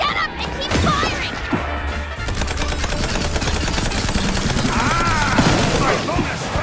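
Rapid, sustained gunfire in MOUSE: P.I. For Hire, a 1930s-style cartoon shooter, rattles on loudly in fast repeated bursts, with a few heavy impacts and brief voices mixed in.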